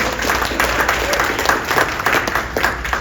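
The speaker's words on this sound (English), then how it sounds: "Yes, you can clap." Brief burst of audience clapping during a political speech to an Indian-American crowd, steady and fairly loud throughout a few seconds with no voices over it.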